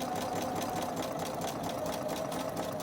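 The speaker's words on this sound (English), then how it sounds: "So I'm gonna sew right along the edge of my foot, how this machine is set up." A sewing machine stitches a quarter inch seam along the edge of the presser foot, a fast steady mechanical whir with rapid rhythmic needle ticking, close and continuous, no talking.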